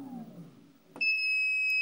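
An electric unicycle gives off a shrill, steady electronic beep that starts abruptly after a brief low hum of the motor and holds as a continuous tone to the end, close and clear.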